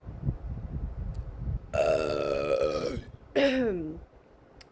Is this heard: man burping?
yes